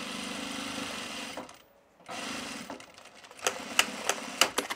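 A sewing machine stitches the pocket section of a tool belt in quick buzzing runs, stopping briefly before starting again, with sharper clicks and clacks near the end, close by and with no voices.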